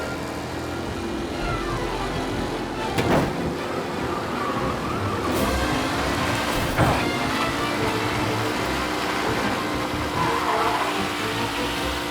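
Race cars in Mafia Definitive Edition roaring away from the start as a pack, a dense blend of revving engines and squealing tyres that rises and falls, with a couple of sharp transient bursts.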